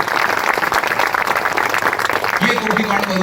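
Steady applause from an audience at a youth festival speech, dense and continuous throughout with no gaps, loud and close, with a faint tonal voice or hum entering near the end.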